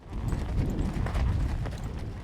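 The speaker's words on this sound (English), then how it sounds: "Driving a herd of horses and mules 100 miles." Hooves clip-clop close by as a herd of horses and mules moves at a steady pace over hard ground.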